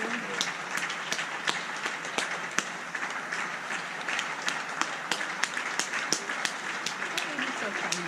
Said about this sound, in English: Look at the cute little grandma over there clapping at her window.